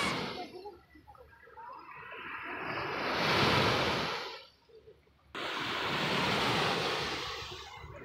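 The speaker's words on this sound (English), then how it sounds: "I think it's more fun for me to hear the wave" Ocean waves on a Philippine beach, surf washing in and out in two broad swells, each building to a loud hiss and then receding, with wind noise on the microphone.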